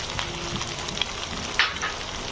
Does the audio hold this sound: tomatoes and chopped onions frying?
yes